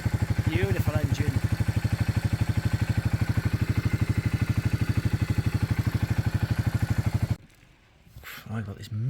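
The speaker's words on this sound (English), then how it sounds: "Beautiful engine." Narrowboat engine idling close by on a canal boat, a steady rapid mechanical thud with a faint metallic clatter for about seven seconds, then cutting to quieter wind and handling noise.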